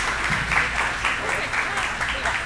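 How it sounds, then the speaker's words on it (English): Steady crowd clapping at a Dallas housing community gathering, a dense roomful of hands applauding continuously for organizers, with a few voices murmuring beneath it. "Y'all give them a round of applause"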